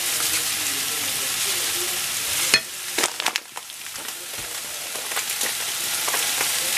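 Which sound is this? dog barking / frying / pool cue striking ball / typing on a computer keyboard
frying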